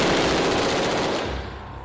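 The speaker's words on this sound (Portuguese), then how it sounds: "O policial atira com 3 armas." Rapid rifle fire at a police shooting range in Rio's north zone, a dense burst of close, loud shots rattling continuously before cutting out into a fading echo.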